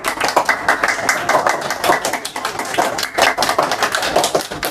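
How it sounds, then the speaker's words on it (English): Dense, steady applause from an audience at an institute anniversary event, with many hands clapping close together at full loudness, unbroken for the whole stretch. "First, give them a big round of applause."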